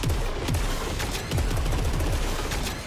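A gun fires in the video game Saros, a dense rapid stream of repeated shots with sweeping tonal whooshes, loud and continuous throughout with no speech.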